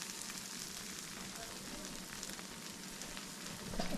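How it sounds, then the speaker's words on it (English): Turkey sausage sizzles in a pan at breakfast, a steady dense crackle and spit that holds even and unbroken, close up and moderately quiet, with a slight rise at the end. "That's our turkey sausage is going."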